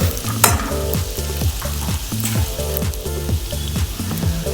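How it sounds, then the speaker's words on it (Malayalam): Vegetables sauté in butter in a pan for a European-style chicken stew, producing a loud, continuous sizzle and frying hiss with repeated stirring, no one talking. "ഞാനിതിൽ ബട്ടർ വെച്ചിട്ടാണ് വെജിറ്റബിൾസ് സോട്ടേ ചെയ്യുന്നത്"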